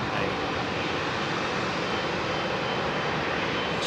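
An ANA Boeing 777 jet airliner at London Heathrow gives off a steady, loud, broadband engine roar that holds without a break for about four seconds.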